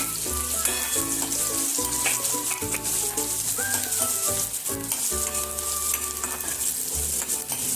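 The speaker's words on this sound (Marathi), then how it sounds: "आता त्यामध्ये आपण जिरं घालूया. त्यानंतर लगेच कांदा करूया" Cumin and onion for a banana-flower curry frying in hot oil in a kadhai, a loud constant sizzle and crackle with stirring, and tonal clatters layered over it throughout.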